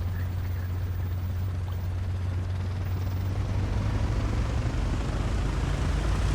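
A WWII fighter plane's engine runs loud and steady during takeoff in the IL-2 flight-sim game, a dense continuous roar with strong low rumble that holds for several seconds, with no voices.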